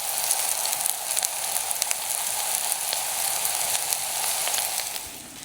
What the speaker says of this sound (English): Some sizzle noises.